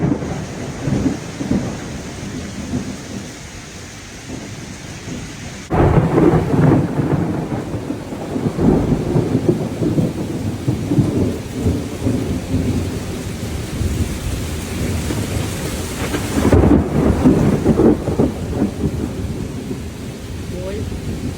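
Heavy rain pours steadily on a house while deep thunder rolls and rumbles, swelling loudly several times through a long, continuous storm with lightning and wind, no talking.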